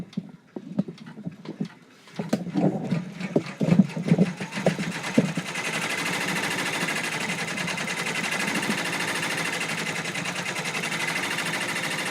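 An embroidery machine stitches an in-the-hoop pin cushion design: a few scattered clicks and handling knocks first, then a fast, even, mechanical stitching whir that runs steadily to the end.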